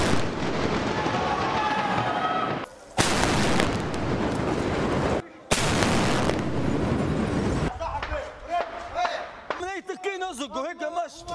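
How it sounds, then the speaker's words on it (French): Heavy, booming tank cannon blasts in combat in Libya fill most of the clip, loud and continuous, with brief gaps between bursts and a quieter stretch of chatter and noise at the end. "C'est au canon qu'ils les débusquent un par un."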